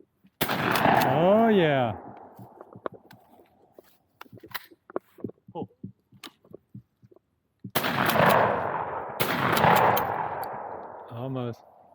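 Target shots ring out outdoors at a country birthday, sharp loud reports with some rapid bursts and echoing tails, separated by quieter stretches where people briefly cheer and talk.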